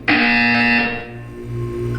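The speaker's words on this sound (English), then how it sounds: "You will hear a buzzer." A harsh, loud electronic buzzer sounds once in the video game Portal 2, a sustained tone of nearly a second that cuts off, followed by a lower humming drone.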